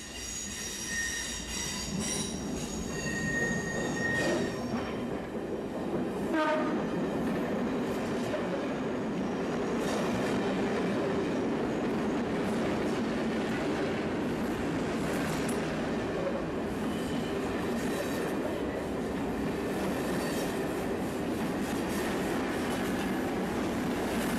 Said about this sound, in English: listen carefully for approaching trains